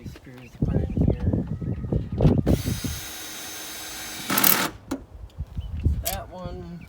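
A power driver sets screws into a spare tire license plate mount on a 2008 Jeep Wrangler JKU, giving one sustained whir of about two seconds and a shorter burst later, with someone talking before and between the runs.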